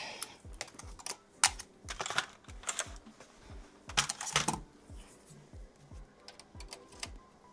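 Steady typing on a computer keyboard during a gaming PC build: close, crisp key clicks in irregular bursts with a few louder clacks, no talking.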